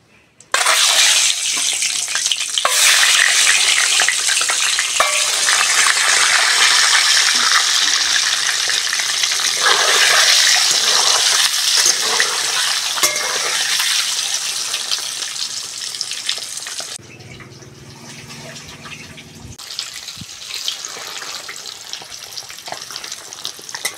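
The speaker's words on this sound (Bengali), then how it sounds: "বন্ধুরা ডিমগুলো খুব সুন্দর করে ভেজে নিয়েছি, এইবার তুলে নেবো তেল থেকে।" Eggs fry in a wok of mustard oil seasoned with salt and turmeric, producing a loud, unbroken hiss and sizzle close by that softens noticeably near the end.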